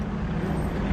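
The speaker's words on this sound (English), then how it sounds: "look at that big aeroplane up there" A steady low rumble of an airplane passing overhead, continuous and fairly loud with no voices, a broad drone filling the low end.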